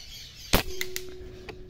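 An M25 air rifle set to 130 bar fires a slug, giving one sharp, close crack followed by a short ringing tail, with a few faint mechanical clicks afterward and no talk.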